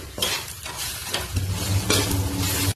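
Kothu parotta with coriander leaves is stirred in a hot pan: repeated scraping strokes over a constant close sizzle, with no talking.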